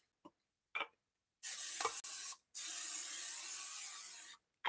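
A long hissing spray of cooking spray into a casserole dish in two bursts, close by, the second lasting nearly two seconds, with a few light knocks before it.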